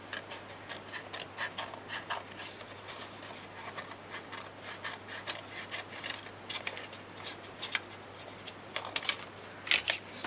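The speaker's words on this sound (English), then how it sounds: "And I will cut it straight up about here." Scissors snip straight up through a paper craft tag in a quiet room, a steady series of small crisp cuts and rustles close by, fairly faint overall.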